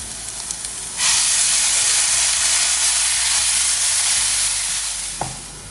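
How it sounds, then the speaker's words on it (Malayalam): Ground masala paste for egg biryani hits a hot pan at about one second and sizzles loudly and steadily, with a brief clatter near the end and no voices. "ഇതിലേക്ക് ഈ മസാലക്കൂട്ട് ഒഴിച്ചു കൊടുക്കാം."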